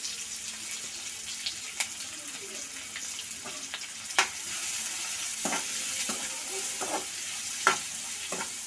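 Onions frying with salt in a pan, a steady sizzle beneath occasional sharp scrapes and clinks of a utensil stirring, recorded close with no talking.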